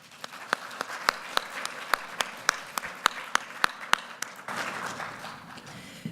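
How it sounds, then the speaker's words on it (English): A round of applause for regulatory inspectors and enforcers at a compliance presentation, sounding like a few spaced, distinct claps at a steady rhythm that give way to a softer wash of clapping, moderately faint. "if we could take a moment and just give them a round of applause"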